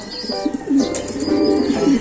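Soft, repeated cooing of a young racing pigeon close by, low throaty calls rising and falling over a steady background hum, with faint chirps mixed in.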